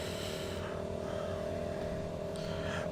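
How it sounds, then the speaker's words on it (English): Right engine of an Embraer 110 Bandeirante in Microsoft Flight Simulator runs with a steady turboprop drone, holding a constant pitch throughout at moderate, even loudness. "we're just gonna wait for that right engine to stabilize"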